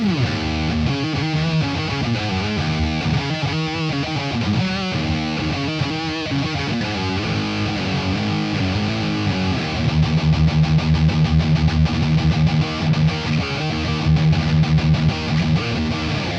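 Electric guitar played through a cheap $39 distortion pedal, dialed into a heavy, saturated blackened death metal tone: dense chugging riffs that move into fast tremolo-picked notes, loud and continuous with no voice over them.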